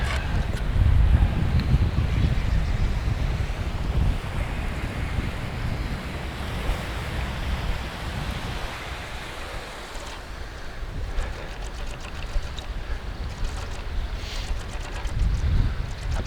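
Wind gusting across a sandy beach in the pre-dawn dark during a surfcasting session in the far north, a steady roar of buffeting and mic rumble blended with surf washing in.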